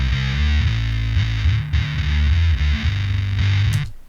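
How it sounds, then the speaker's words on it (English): An electric guitar played through a distortion effect, loud and sustained with thick, saturated chugging notes and a buzzy upper layer, cutting off abruptly at the end. "It sounds like a proper distortion as opposed to kind of the broken sound that I think I'm going for."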